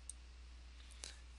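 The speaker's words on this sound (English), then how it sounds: "and click OK." A computer mouse clicks twice, once near the start and once about a second later, both faint and sharp over a quiet background hum while someone works through a Google Form.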